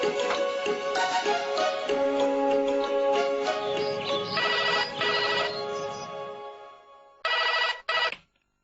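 A telephone rings with an electronic ringtone, a repeating melodic pattern at moderate volume that breaks into a few short bursts before cutting off.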